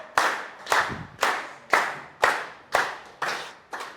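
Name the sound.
audience clapping at a business training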